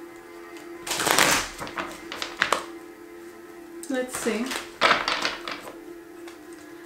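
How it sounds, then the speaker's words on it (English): Tarot cards are shuffled by hand, with a few brisk riffling and tapping bursts close up while a person talks briefly over them. "I like to shuffle my cards for a little while."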